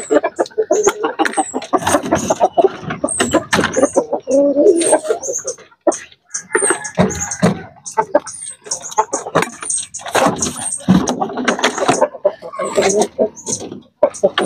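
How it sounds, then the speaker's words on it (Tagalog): Asil gamecock stags in a Filipino backyard poultry pen, clucking and calling in dense bursts close by, with someone talking over the birds throughout. "Ito yung mga asil natin ng mga stag."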